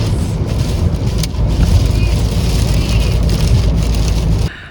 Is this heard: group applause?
no